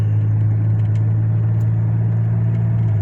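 A '95 Buick Regal GS engine runs steadily while driving, a loud, even low hum with a strong drone and faint clatter on top, no stutter or change in pace, and no voices.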